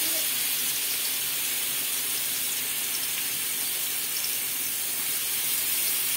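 Ginger garlic paste sautéing in a pan for a traditional crab gravy, a steady, even hiss and sizzle that holds at one level throughout with no break, close and moderately loud.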